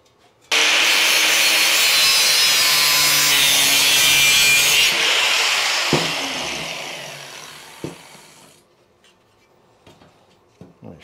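Hand saw cutting the corners off a wooden seat base for a BMW project: steady, loud back-and-forth rasping strokes for about four seconds, easing off, then a few sharp knocks and quieter handling sounds.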